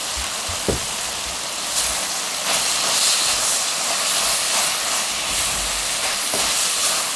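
A Korean side dish stir-frying with sliced green onion in a pan over high heat, a loud continuous hiss of sizzling with a few scattered clinks and scrapes, no speech.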